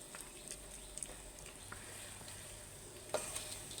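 Chinese jujubes simmering in sugar syrup while being stirred: a faint, soft sizzle and bubbling with occasional light scraping of the spoon in the pan.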